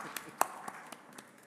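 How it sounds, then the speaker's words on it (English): A few scattered hand claps sound in a conference hall during a panel introduction, one sharp close clap standing out among sparse lighter ones at irregular intervals. "Okay, please keep clapping."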